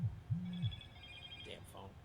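A telephone bell rings in two short bursts near the start, then fades while a voice picks up faintly underneath.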